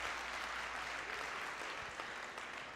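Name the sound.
crowd applause at table tennis match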